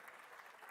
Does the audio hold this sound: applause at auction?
yes